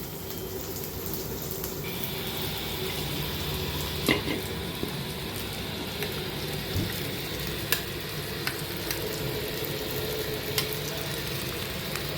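A ground paste sautéing with capsicum and tomato for a kadai vegetable dish gives a steady, moderate sizzle nearby, broken by occasional spoon scrapes and light clinks, with no voices.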